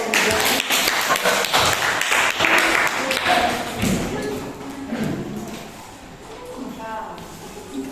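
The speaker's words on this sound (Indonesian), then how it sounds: "Terima kasih tepuk tangan dulu" Students clap in a classroom after group presentations on hydrostatic pressure, loud at first and then thinning out, with voices mixed in as the clapping fades.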